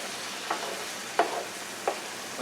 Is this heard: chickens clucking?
no